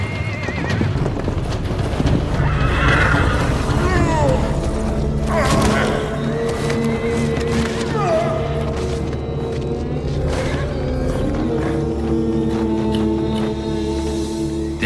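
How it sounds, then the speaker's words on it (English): Wild horses neigh and whinny loudly and repeatedly, with hoofbeats clopping and thudding underneath and a low rumble throughout. "hunting wild horses."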